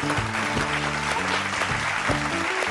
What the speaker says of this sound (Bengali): খুব ভালো, জোরে হাততালি